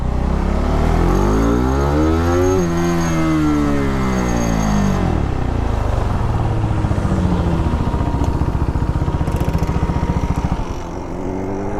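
A KTM RC 390 motorcycle fitted with a Powertronic module and Fuel X revs hard and loud up toward a 12K RPM limit, its pitch sweeping up and back down before settling into a rough, pulsing idle-like rumble.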